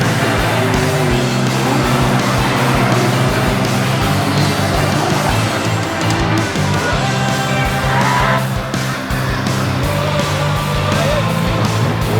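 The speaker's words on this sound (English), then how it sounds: "so it's all happened as the checker drops on Ryan Haytree." Race cars roaring past the checkered flag at the finish line of an oval raceway, a loud continuous engine drone of several cars with rising and falling pitch, close and dense throughout.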